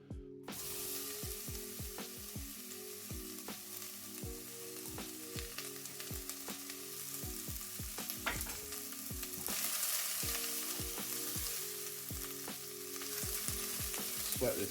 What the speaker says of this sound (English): First, start off by sweating the onions and the garlic down.